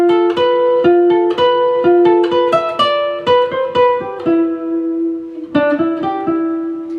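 A melody from Zelda plays as a bright, bouncy melody of quick plucked or keyed notes in a lively repeating rhythm, a short pause before a phrase resumes.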